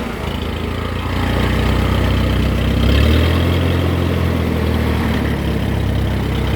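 A 1955 tractor engine of about 40 horsepower runs in a steady, close, loud idle, its low throb swelling slightly after the first second and staying even to the end, with no voices.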